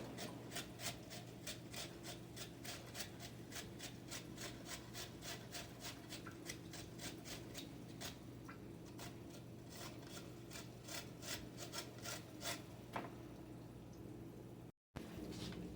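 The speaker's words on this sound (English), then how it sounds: "I'm going to start first with the carrot and get this grated. So I'm just going to do a little grate by hand." A carrot is grated by hand in quick, regular rasping strokes, a steady scraping rhythm close by that keeps a brisk pace for several seconds before stopping with a brief pause.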